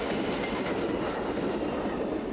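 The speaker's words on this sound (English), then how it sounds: "Amtrak train 91, the southbound Silver Star headed from New York City to Miami, Florida" Amtrak train 91, the southbound Silver Star, passes close by in Pine Castle, Florida, a loud, steady rushing roar of rail cars with faint clatter throughout.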